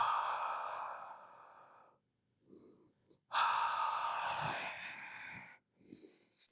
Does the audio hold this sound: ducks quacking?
no